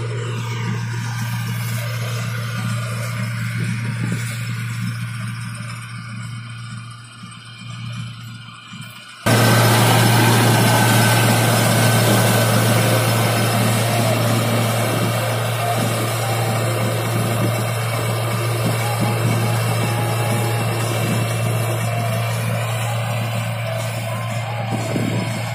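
Farmtrac 6060 tractor engine running under repair, a steady low droning hum that jumps abruptly louder partway through and stays close and constant with a rough vibrating texture.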